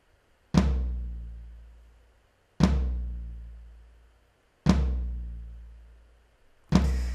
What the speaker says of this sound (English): So the floor tom on its own sounds like this.